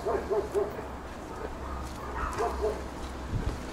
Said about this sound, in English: I'm hearing dogs starting to bark.